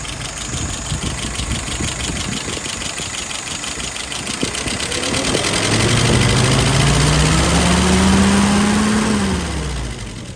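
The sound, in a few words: carburetor-tuned engine running after throttle pull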